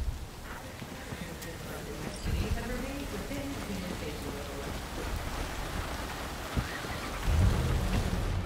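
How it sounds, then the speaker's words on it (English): Heavy rain falls in a night city street in Cyberpunk 2077, played on PS5. It is a steady, dense hiss of downpour throughout, with a few louder splashes and rumbles and voices talking over it. "Dude, it's raining his ass off here."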